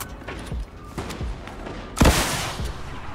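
A drum gun fires in a video game: a few heavy thumping shots spaced apart, then a louder, denser blast burst near the middle that rings on, close and punchy over background game noise.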